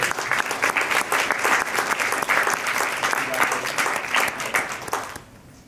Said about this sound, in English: So please give Floyd a round of applause.